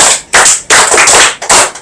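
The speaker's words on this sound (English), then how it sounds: "Let's clap for ourselves." Loud, close bursts of group clapping come in short separate waves of sharp hand claps, with brief gaps between them.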